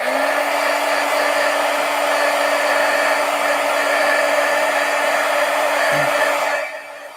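A hair dryer runs steadily at close range, drying fresh Posca paint marker artwork, its constant whirring hum and airy blast holding level before cutting down near the end.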